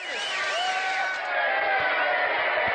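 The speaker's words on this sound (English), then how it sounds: "Let's get that cheering sound mix in there" Cheering crowd sound effect mixed into a live edit, a dense continuous wash of whoops and shouts with whistles at steady loudness for the full stretch.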